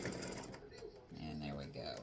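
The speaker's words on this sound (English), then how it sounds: "we're just about finished with that satin stitching around the edge" An embroidery machine works a satin stitch around the edge of a Halloween tic-tac-toe board with a close, busy mechanical whirr and rattle. The sound stays dense and steady throughout the short stretch.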